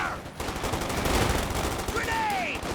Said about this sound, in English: that's a concussive grenade